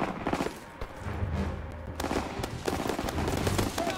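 Sustained gunfire in Call of Duty WWII, a steady rattle of rifle and machine gun shots with scattered louder cracks, fairly close and continuous throughout.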